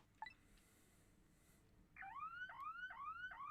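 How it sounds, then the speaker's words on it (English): An alarm in Ghost Trick: Phantom Detective starts with a brief beep, then sounds as a repeating rising electronic wail, four even cycles over a low background hum. "There's an alarm."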